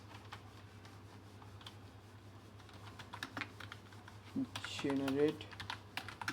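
Soft, quick typing on a computer keyboard as a prompt is entered, the clicks steady and close under a low background hum, with a person speaking briefly near the end.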